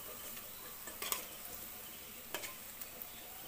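Raw banana kofta balls fry in oil with a faint, even sizzle, broken by a few soft clinks and scrapes of a spoon against the pan.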